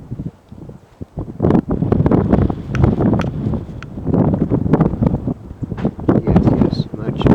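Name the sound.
wind blowing outdoors by the water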